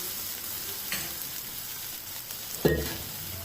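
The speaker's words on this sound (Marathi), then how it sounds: "इथे कांदा आपण भाजून घेऊयात" Chopped onion sizzles softly in a pan for a Maharashtrian vada curry, a steady low hiss with a couple of brief stirring scrapes and one louder sputter near the end.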